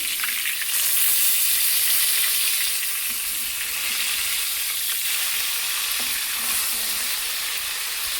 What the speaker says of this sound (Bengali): এই মাছটা একটু ভাজা হয়ে গিয়েছে